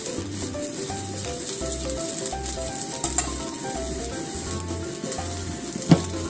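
A chive pancake (chijimi) frying in a pan, with a steady close hiss of oil sizzling throughout and a faint low pulsing hum underneath, plus one small clack near the end.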